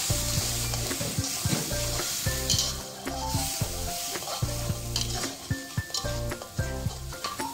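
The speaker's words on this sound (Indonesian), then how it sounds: "Masukkan semua pelengkapnya, lada bubuk, ketumbar bubuk," Ground pepper, coriander and turmeric hit a hot pan and sizzle loudly while a spatula stirs and scrapes in a repeated rhythm, close and continuous.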